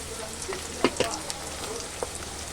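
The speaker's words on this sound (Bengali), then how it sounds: "ভালো করে ভেজে নিতে হবে এরপরে মশলা দিয়ে দেব বাটা মশলাটা" Ground spice paste for loitta fish curry fries in a pan, a soft close sizzle marked by a few sharp crackles and stirring clicks.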